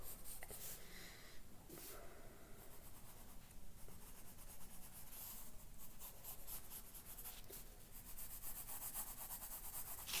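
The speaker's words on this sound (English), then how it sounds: "I'm just trying to be quick with my sketch" A pencil sketches quickly on paper in close, faint, continuous scratchy strokes with short rhythmic bursts of rubbing throughout.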